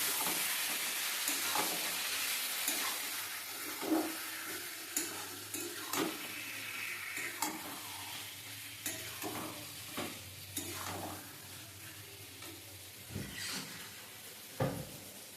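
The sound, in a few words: stirring chicken with spices in a pan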